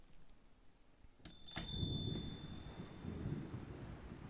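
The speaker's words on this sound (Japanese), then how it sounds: "外雨降ってるな。 雨降ってきちゃった。" Steady rain falls outside in the horror game Tsugunohi, a soft continuous hiss that begins after a sharp click and a brief high tone, moderately quiet and without talk.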